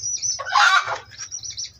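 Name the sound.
hens and roosters clucking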